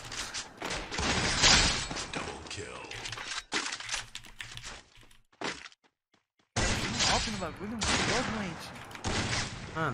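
Rapid bursts of gunfire from a video game, crackling loudly through much of the stretch with a brief silent gap, mixed with chatter and talk from players.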